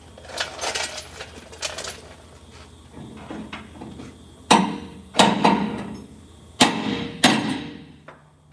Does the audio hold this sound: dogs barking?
no